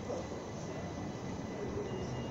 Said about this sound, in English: And you've got the other train about to go off in a minute.